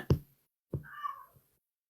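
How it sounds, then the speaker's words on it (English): A single cat meow, drawn-out and close, follows a sharp knock-like thump, then quiet; faint and brief. "Meow. Here, kitty."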